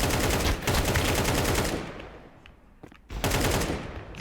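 Rapid automatic gunfire in Counter-Strike 2, a loud dense burst that fades to near quiet before another burst starts, with no speech.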